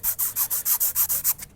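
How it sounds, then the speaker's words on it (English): Rhythmic back-and-forth rubbing of a 220-grit aluminum oxide sandpaper strip burnishing a vintage repulsion induction motor's armature, about ten quick even strokes, close and crisp, with no talking. "I've got a piece of aluminum oxide sandpaper here."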